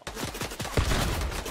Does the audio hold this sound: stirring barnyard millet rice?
no